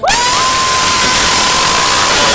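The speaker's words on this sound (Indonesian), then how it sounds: "kita berikan tepuk tangan" Applause fills the air at a marching band event for the Simalungun anniversary, a dense, steady wash of clapping from a crowd that runs throughout, with a sustained whistle-like tone held over it.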